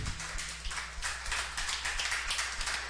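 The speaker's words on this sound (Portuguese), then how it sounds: "Palmas para Jesus" Congregation clapping hands during a Portuguese-language family worship service in church; rapid, steady rhythmic claps at moderate level over a low background hum, with no voices.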